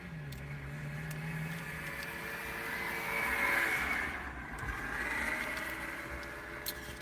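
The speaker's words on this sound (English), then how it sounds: "It's a loud car." Loud car engine running close by, a steady rumbling drone that swells in the middle and eases off, heard outdoors with no talk over it.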